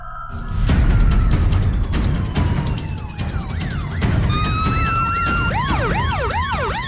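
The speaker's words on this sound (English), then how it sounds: "the sound of approaching police sirens makes her stomach sink" Several police sirens wail loudly over busy street noise, their rising and falling tones stacking up as the vehicles draw closer.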